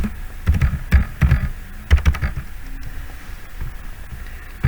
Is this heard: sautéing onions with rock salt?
no